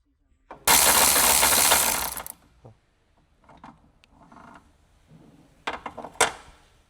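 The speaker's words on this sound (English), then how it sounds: "with medium impact wrench, remove the low side line retaining bolt from the compressor" Medium impact wrench loosening the low side A/C line retaining bolt on a 2016-2021 Honda Civic compressor: a loud, harsh burst of rattling hammering lasting over a second, followed by clinks and shorter mechanical bursts.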